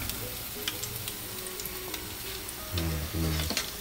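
Pork chops fry in a hot pan with a steady, close sizzle and crackle, and a few louder bursts of spattering toward the end, with no talking.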